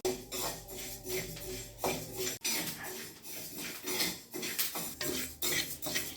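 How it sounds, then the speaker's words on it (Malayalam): Parboiled rice dry-roasting in a pan for idli podi as a utensil stirs it steadily, giving repeated close scraping and clattering against the metal with no voices. "നമ്മൾ പുഴുങ്ങലരിയാണ് ഇഡ്ഡലിപ്പൊടിക്ക് വറുക്കിടുന്നത്"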